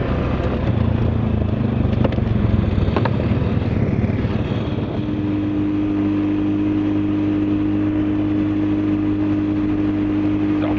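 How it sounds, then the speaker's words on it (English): A Honda ATV engine runs steadily during a ride in rural Manitoba, loud and close, holding a continuous mid-pitched drone with a shift in tone about halfway through. "the Honda's back, and we are gonna go for a celebratory ride"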